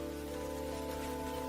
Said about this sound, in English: The light remains diffuse under the first raindrops of the morning.